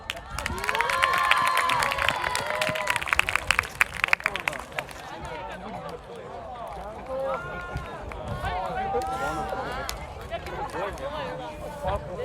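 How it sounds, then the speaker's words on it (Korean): A high school audience at a student music festival breaks into loud applause and cheering, with shouts and crowd noise that swell near the start and then settle into lively chatter and whoops. "큰 박수와 큰 함성으로 맞이해 주시기 바랍니다."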